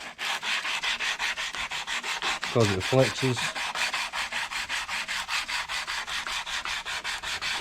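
150-grit sandpaper rubs rhythmically back and forth on a wooden knife handle in steady, even strokes, close up, with a brief spoken phrase in the middle.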